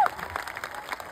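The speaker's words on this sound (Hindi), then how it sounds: "एक बार जोर से ताली बजाइए" Crowd clapping at a Prashant Kishor political rally in Bihar, a brief, faint wash of scattered applause with a voice over it.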